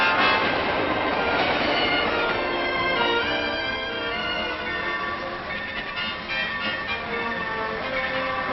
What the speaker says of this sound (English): Air brakes gently slow our train